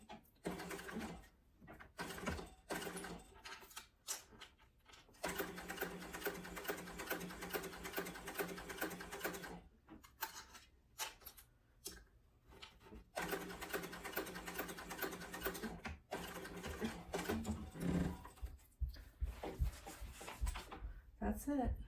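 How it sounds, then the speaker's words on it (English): A sewing machine running along the folded edge of a fabric sling bag hums in long, even stretches broken by short pauses, fairly quiet, with a voice occasionally speaking over it. "So I'm going to sew along just the folded edge there."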